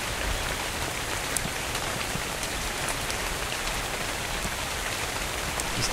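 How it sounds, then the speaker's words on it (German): Steady rain falls in the Dark and Light video game, an even hiss of drops hitting surfaces with scattered brighter patters, continuous and fairly loud with no voice. "Wir haben jetzt aber Regen."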